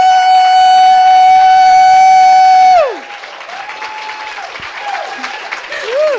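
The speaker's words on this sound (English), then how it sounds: "And now I'm gonna record your applause" A crowd at a book event in The Strand bookstore applauds. A loud, sustained tone holds for nearly three seconds and falls away into clapping mixed with scattered cheers and whoops.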